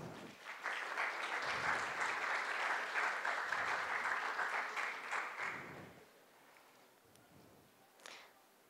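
Applause from an audience at a national climate change communication event welcoming a guest, a sustained burst of clapping for about five seconds that fades out, followed by quiet room noise and a brief sound near the end.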